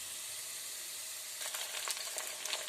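Sliced onion and ginger sizzle in a hot pan during soya chunk fry preparation, a soft steady crackling hiss with a few louder bursts of stirring toward the end and no talk.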